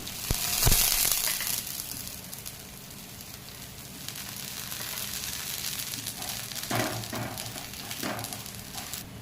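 Cucumber thalipeeth flatbread frying in oil on a pan gives a soft, continuous sizzle with a louder crackling burst near the start and a few light scrapes later, close and moderately quiet.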